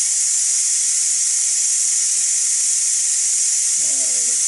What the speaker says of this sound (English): And the steam is coming out,